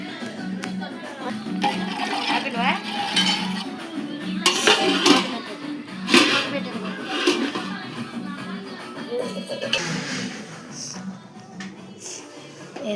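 Water splashes and gurgles into a cooking pot in a home kitchen while a country chicken curry is being made, with irregular pouring bursts under casual conversation.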